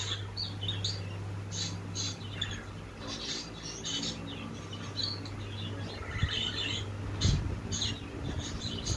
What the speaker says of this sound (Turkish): Muhabbet kuş seslerini.